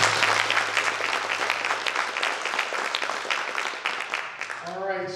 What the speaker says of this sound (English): let's give our candidates a round of applause